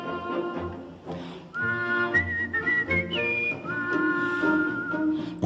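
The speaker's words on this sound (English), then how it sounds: "They whistle." People whistle a clear sustained melody with gliding notes, close and fairly loud over soft background music.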